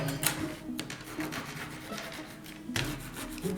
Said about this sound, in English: And again, burnish it right to the edge.